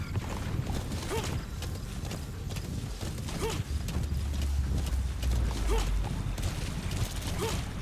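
Horse hooves clip-clopping in steady rhythm through the Metal Gear Solid V game world, with creaky mechanical gear sounds and a low rumble over a constant ambient bed.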